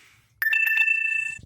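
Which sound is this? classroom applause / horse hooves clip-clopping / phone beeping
phone beeping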